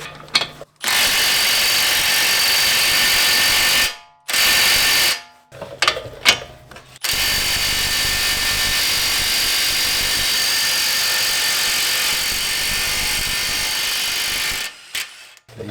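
A 1.25-inch axle nut is loosened on a VA Subaru WRX with an FA20 engine, giving loud, close whirring, rattling tool bursts, several short ones and then one long sustained run, separated by brief silences.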